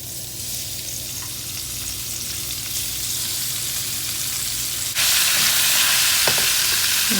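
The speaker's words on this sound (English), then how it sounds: "I added some olive oil to the pot. Waiting for it to get hot." Olive oil heating in a pot on the stove for homemade lasagna gives a steady, soft sizzle that grows brighter and louder partway through, with a faint clink near the end and no talking.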